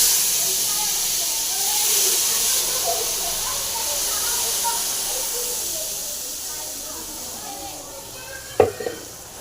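Green masala paste poured into a hot pan with cumin for a skinned-chicken gravy gives a steady, bright sizzling hiss that fades slightly over time, ending with a sharp clack near the close.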